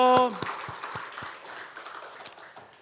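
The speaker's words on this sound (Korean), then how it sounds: "우리 하나님께 영광의 박수 올려드리겠습니다." Congregation clapping during a Korean Sunday church worship service, a few loud, evenly spaced claps after a brief voice at the start, fading into softer scattered clapping with talk in the background.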